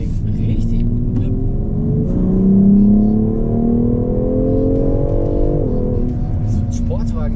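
A BMW X3 M Competition, 375 kW, heard from inside as its engine drones loudly and steadily, the pitch climbing under acceleration before easing off, while people talk over it.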